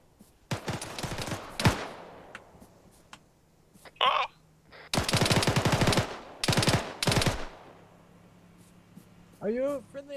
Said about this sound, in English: Who the fuck's shooting?